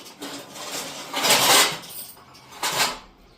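A metal kadhai clanks and scrapes against a stovetop in a few short bursts as it is set up with oil for frying papad, with a louder clatter in the middle and another near the end.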